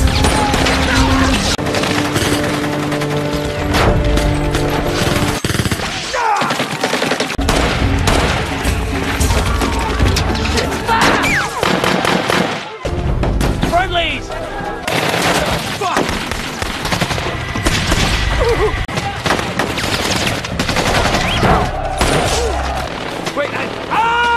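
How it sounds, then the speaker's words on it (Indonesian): Dense machine-gun gunfire and explosions in a dramatized Black Hawk Down battle in Mogadishu, Somalia, loud and nearly continuous throughout, with crashes and booms mixed in and voices talking over the chaos. "Tanpa belas kasihan, mereka langsung memberondong peluru ke arah Michael Duran yang terjebak di dalamnya"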